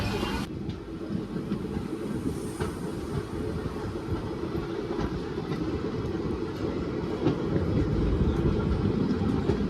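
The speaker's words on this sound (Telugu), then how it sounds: "సో ఇది గూడ్స్ ట్రైన్" A fully loaded goods train rumbles past near Kamareddy, a steady, close and loud roar of rolling wagons with a faint clickety-clack of wheels on rail throughout.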